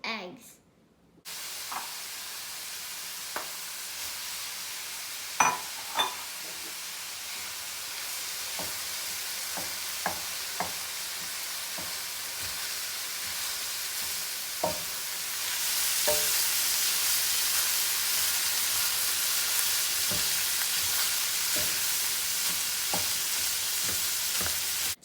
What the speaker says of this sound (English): Five scrambled eggs.